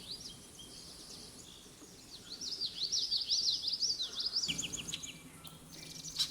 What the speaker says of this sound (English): I'm hearing more chestnut-sided and yellow warblers